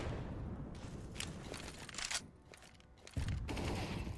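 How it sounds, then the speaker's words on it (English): Grenade blast and bursts of gunfire in the game CS:GO on the Vertigo map during a match final, rapid shots and a heavy thump heard faintly in the background. "Wow, that is a grenade."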